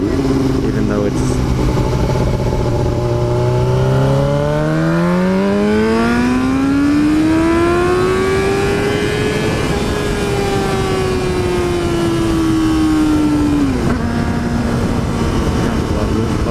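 A Yamaha R6 sport motorcycle under way, its engine note climbing smoothly through the revs before easing off and dropping back, loud and close with steady wind roar, while the rider talks over it.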